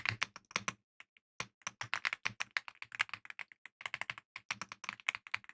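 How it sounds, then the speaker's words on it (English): Rapid, close keystrokes clatter on a freshly cleaned mechanical keyboard, crisp clicks in irregular bursts with short pauses and no talking. "Let me do some keyboard ASMR."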